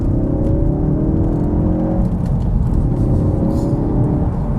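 A Ford Focus RS Mk3 hot hatch pulls hard in second gear on a motorway, its engine a loud, steady rumbling drone with rising harmonics, heard from inside the car without talk.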